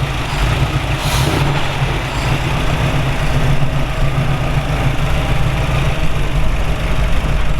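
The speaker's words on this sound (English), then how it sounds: "Idles down like it's supposed to." A 1968 Ford Bronco 4x4 resto-mod with a Dana 20 transfer case idling on a cold morning, a steady, loud, rumbling engine drone with an even throb and no talk over it.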